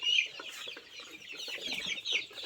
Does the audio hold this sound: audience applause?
no